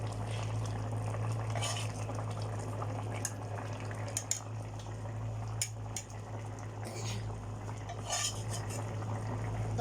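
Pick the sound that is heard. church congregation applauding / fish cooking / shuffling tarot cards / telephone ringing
fish cooking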